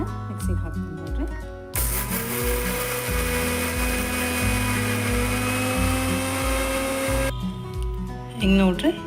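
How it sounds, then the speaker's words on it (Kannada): A kitchen mixer grinder whirs loudly and steadily for several seconds, grinding flaxseed chutney ingredients with chilli powder and garlic, after brief clatter and before it winds down, with a short pause at each end. "ನಾನು ಇದನ್ನು ಮಿಕ್ಸಿಗೆ ಹಾಕ್ತೀನಿ."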